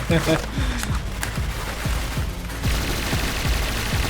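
Rapid gunfire in the online shooter Point Blank, sharp repeated bursts of shots layered over continuous game noise, with a voice talking through the firing.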